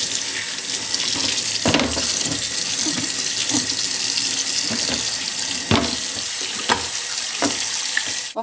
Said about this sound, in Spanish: Vamos aquí a lavar nuestra calabaza.